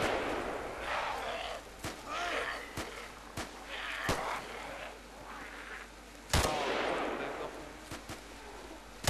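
Gunfire rings out in the zombie survival video game DayZ, single sharp shots at irregular intervals, some loud and close, others fainter, over an ambient wash with voices talking.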